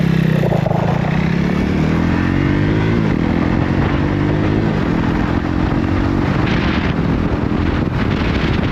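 A Yamaha MT-03 motorcycle accelerates hard, its engine note climbing steadily through the gears under heavy, continuous wind rush on the microphone, loud and close throughout.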